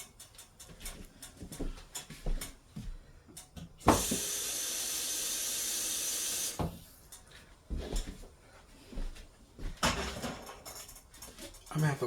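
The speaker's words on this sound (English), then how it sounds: "And I need to put more water in here already." Tap water runs into a pot of cooking beans for about three seconds, a loud, steady hiss that stands out between soft kitchen clatter and a person talking.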